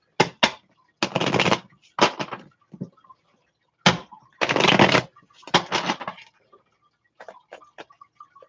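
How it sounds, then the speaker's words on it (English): Tarot cards being shuffled by hand, several sharp, crisp riffling bursts separated by short silent pauses, close and fairly loud, ending in a few lighter taps. "A certain way I can shuffle."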